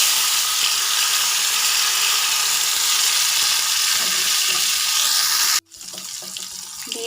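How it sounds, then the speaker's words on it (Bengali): Spice-paste water poured into a pan of mourola fish curry makes a loud, steady rushing hiss for about five seconds, then stops abruptly and leaves a quieter sizzle. "দিয়ে দিলাম সামান্য মশলা বাটা জল"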